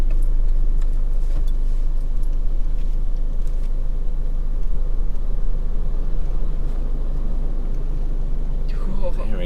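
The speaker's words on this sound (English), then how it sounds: "We just pulled over on the side of the road, just to let a cattle truck go through it." A cattle road train rumbles past on an outback desert track, a steady loud low engine drone filling the whole stretch with no clear rise or fade, while a vehicle sits pulled over at the roadside and voices murmur underneath.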